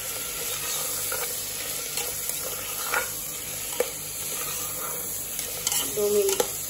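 Masala being stirred and sautéed in a pressure cooker while cooking veg kheema, with steady sizzling and frying under irregular scraping and stirring strokes, close and moderately loud, no talking.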